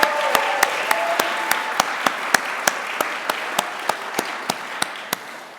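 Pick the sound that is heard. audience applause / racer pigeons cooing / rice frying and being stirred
audience applause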